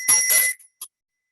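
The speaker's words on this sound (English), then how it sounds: "And I'm going to ring the bell." A small handheld bell rings once as a timer at a roundtable discussion, a bright metallic ding that decays quickly, followed by a faint short tap, close and alone.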